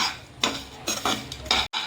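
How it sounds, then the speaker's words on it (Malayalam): Grated coconut roasting in a pan, with repeated scraping strokes of a spatula at an uneven rhythm and a faint sizzle, close by and without speech. "നമ്മുടെ തേങ്ങ നമുക്കൊന്ന് വറുത്തെടുക്കാം"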